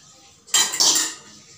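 A metal pot of water lands on a gas stove with a sharp clank and a brief rattling clatter, loud and close, then fades to quiet.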